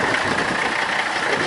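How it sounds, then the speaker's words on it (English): An old Mercedes car engine runs at a steady idle right after starting, a close, even mechanical hum with a faint knocking texture and no talk. "Let's do one quick start just to see how good she starts now"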